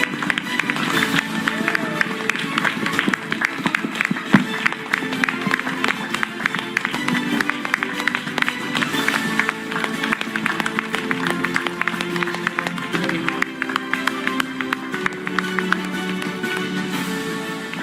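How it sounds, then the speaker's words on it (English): An audience at an event claps for a woman called to the stage, sustained applause with a steady rhythmic texture over music and crowd noise, continuing for many seconds. "And everybody, can you give a round of applause to Vaishali?"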